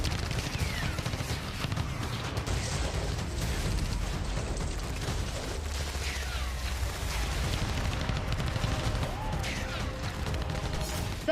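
Russian tanks and artillery fire on Ukrainian positions in Donetsk and Luhansk: dense, continuous bursts of gunfire and booms crackle without pause at a moderate distance.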